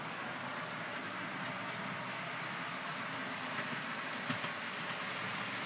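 Rail locomotive on a model railway layout running steadily, a continuous broadband rumble with faint rhythmic clicks over the track and no talking.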